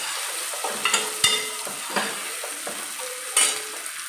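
Food seasoned with salt is stirred in a hot pan, a spoon scraping and knocking in irregular strokes over a soft background sizzle, close and clear with no talking.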